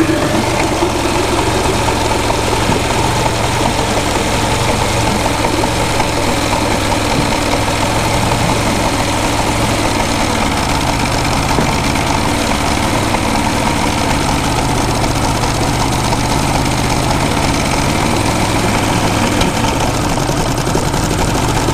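Small engine with a faulty trigger running rough and misfiring, a steady loud idle-like drone with uneven knocking pulses throughout, no talk.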